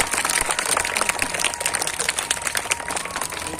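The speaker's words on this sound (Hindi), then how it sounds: "एक बार जोरदार तालियां पुनः बजा दीजिए" An audience at a school program at Gyan Punj Public School claps for Trivedi sir, a dense, steady patter of many hands filling the room without letup.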